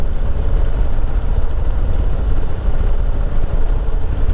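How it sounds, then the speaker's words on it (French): Steady low exhaust rumble from a Harley-Davidson Low Rider ST motorcycle cruising at a constant 2000 rpm, a continuous dense drone with wind noise, loud and close, no talking. "avec un échappement qui est pas casse-pied, qui fait pas mal aux oreilles quand on est à allure stabilisée comme ici à 2000 tours"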